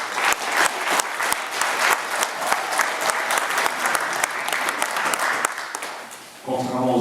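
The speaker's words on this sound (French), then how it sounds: "Qu'on vous applaudisse bien fort pour le boulot que vous avez fait." Loud, dense applause from a crowd at an outdoor village gathering honouring the parents' association, steady throughout before tapering near the end into a brief tonal sound.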